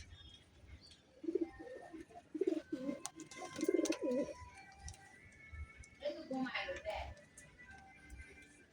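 Pigeons wet from bathing in the rain give soft repeated coos at close range, with a person talking nearby.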